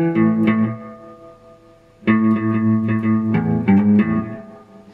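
Electric guitar playing a twangy low riff, clean and slightly reverberant, with two short phrases of plucked notes separated by a pause, played alone without talking.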